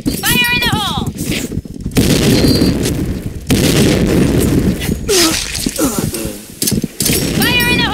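Grenade blasts in the shooter game Point Blank come as a dense run of heavy, booming explosions and gunfire-like bursts, with brief in-game voice calls heard between them.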